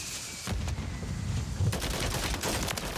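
Automatic gunfire in Call of Duty Warzone, a fast rattle of shots in bursts over a few seconds, loud and close against the game's background noise.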